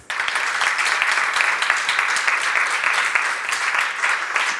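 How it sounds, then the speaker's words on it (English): Enthusiastic audience applause for an event team at a startup launch day, dense continuous clapping at full strength from start to finish. "I want to ask you to give a big round of applause for this amazing team"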